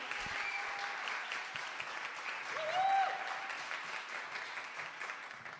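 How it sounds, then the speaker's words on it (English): Applause from a crowd carries on at an even level throughout, swelling slightly near the middle with a brief voice over it. "Please, big applause to her."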